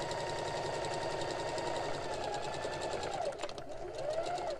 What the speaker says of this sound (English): I'm just gonna sew until the split from my presser foot reaches the edge